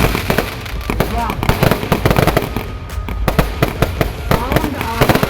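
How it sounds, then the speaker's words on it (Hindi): Fireworks at the Dewa Sharif fair burst in rapid, dense volleys of loud cracks and booms for the whole stretch, with excited voices and crowd noise underneath. "आतिशबाजियां आकाश में जा रही हैं, बहुत शानदार, ताबड़तोड़।"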